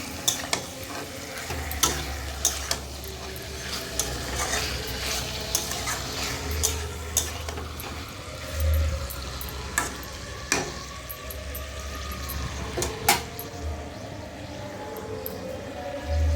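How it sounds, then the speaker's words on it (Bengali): Chicken meat fries in a pan with a constant sizzle, punctuated by frequent clicks and scrapes of a spatula stirring, plus a low intermittent hum in the background and no speech. "ভেজে নিচ্ছি মাংসগুলোকে"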